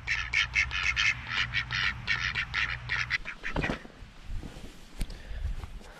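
A group of farm ducks quacks in quick, loud bursts in the rain, joined by chickens, then fades to scattered soft thumps and rustling.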